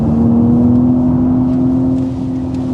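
Synthetic engine tone from a Hyundai IONIQ 6 N electric car, a steady loud drone holding one pitch with a slight dip near the end, like a held gear.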